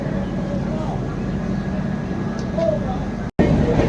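The Howrah-Puri Shatabdi Express, train 12277, pulls out of Kharagpur Junction, heard as a steady low rumble and hum of motion that runs throughout, with a brief dropout near the end.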